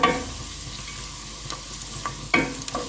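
A steady sizzle of carrots and onions frying in a pan, broken by a few scrapes and knocks of a spoon stirring at irregular intervals.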